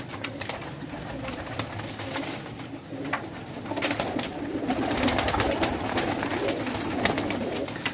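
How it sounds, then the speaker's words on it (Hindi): Pigeons coo softly amid a steady outdoor bed of noise, with low burbling calls continuing throughout at moderate distance. "आला क्वालिटी कबूतर।"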